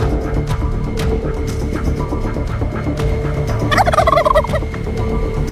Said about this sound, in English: a bird often associated with Thanksgiving dinners, the turkey, actually possesses a surprising amount of strength and fighting instinct